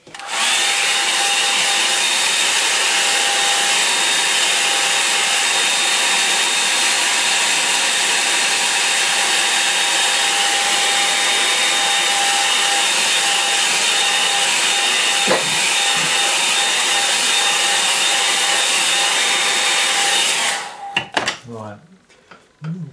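A hair dryer blows steadily and loudly for about twenty seconds to dry paint on a Cornish headland landscape painting, then cuts off abruptly, leaving a brief clatter of handling.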